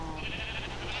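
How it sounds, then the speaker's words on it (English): Sheep bleating in the video game Minecraft, a steady, fairly loud bleat that fills the whole short moment on its own, with no talking. "I want to get the rest of those sheep out of there"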